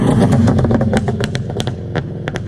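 A Scion FR-S with a nearly straight-pipe exhaust from the headers back, resonator retained, and a Stage 2 Plus 91 backfire tune, rumbling loudly up close with a choppy, rough idle-to-rev burble and crackling pops.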